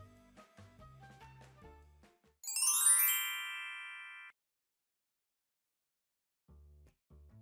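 A phone ringtone plays once as a bright, loud chiming melody lasting about two seconds, with scattered household sounds and low thumps before it and a brief low rumble near the end.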